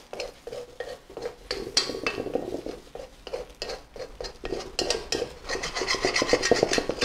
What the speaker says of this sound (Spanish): Voy a raspar aquí el huevillo.